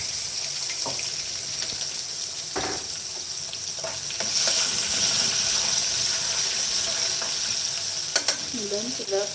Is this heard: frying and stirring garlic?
yes